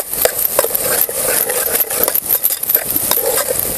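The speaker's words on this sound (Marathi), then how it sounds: "बघा सगळ्या मसाल्यामध्ये चांगलंसं हे परतायला पाहिजे" Masala spices are stirred and sautéed in a pan, with a steady, loud run of scraping spatula strokes and a crisp sizzle that keeps going throughout.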